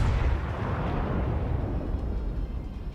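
Battleship main guns firing in World of Warships, a North Carolina engaging enemy ships: dense, continuous low rumble of artillery and explosions filling the whole stretch, loud and unbroken with no talk.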